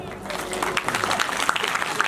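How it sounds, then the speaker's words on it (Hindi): An audience at a Hindi religious discourse gathering claps in a loud, dense burst of applause that continues throughout, with a voice partly audible underneath. "जोरदार ताली बजा दे"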